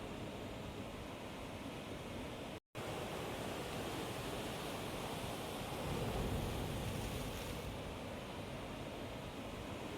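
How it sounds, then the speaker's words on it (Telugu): Broad, steady roar of Arabian Sea surf at Alappuzha beach, a continuous wash of waves with a slight swell toward the end and no voices. "రోడ్కి ప్రక్కనే ముందుగా కనిపించేది పెద్దగా విస్తరించిన అరేబియన్ సీ."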